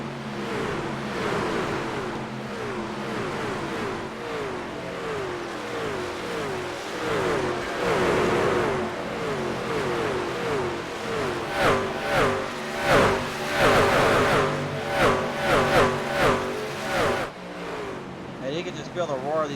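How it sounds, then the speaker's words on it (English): A pack of race trucks in the G O A T Racing League Sim 500 Truck Series at Nashville Superspeedway drones around the track, engines surging and revving as they pass, with a commentator talking over the noise. "Feel the roar of these cars too as they continue to work their gaps off, work their speeds in a bit."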